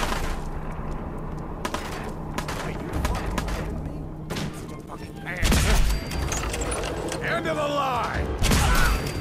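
Charged energy weapon shots in the game Fallout 4, a series of sharp bursts and thumps spaced irregularly, some followed by whining electronic tails and mechanical clicks, with faint background game sounds.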